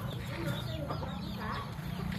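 Gamecocks and hens cluck softly and repeatedly at close range on a poultry breeding yard, with a busy murmur of farm background noise around them.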